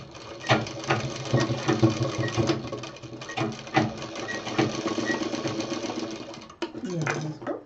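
A sewing machine stitching round elastic onto a fabric cover, running in steady rhythmic bursts with short stops between runs, close and moderately loud, while a voice talks over it.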